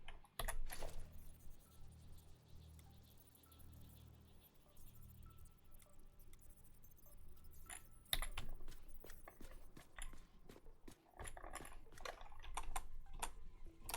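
Clicks and taps of a computer keyboard being used, with arrow keys and page down pressed in quick irregular bursts, close and fairly quiet over a low room hum.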